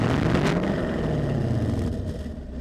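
Gen 6 Chevrolet Camaro with NPP dual exhaust in snow and ice mode, a loud, deep, steady exhaust rumble up close that eases slightly toward the end.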